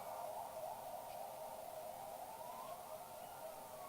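An ambulance siren passes in Guyana, a steady wailing tone that holds fairly level and then bends slightly upward, faint and continuous over a bed of hiss.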